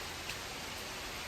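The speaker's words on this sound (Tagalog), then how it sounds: "Umuulan." Rain falling on a rainy day in India, a dense, even hiss of steady rainfall filling the whole moment without pauses or voices.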